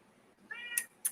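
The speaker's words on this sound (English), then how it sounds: "we hearing the kitty" A single short cat meow, rising then falling, fairly faint, framed by brief hissy bursts of noise.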